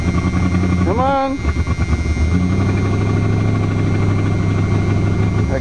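Big-block 400 engine of a 1976 Chrysler New Yorker cranking in deep snow, a brief starter whine and stumble before it catches into a loud, steady, rumbling idle close by.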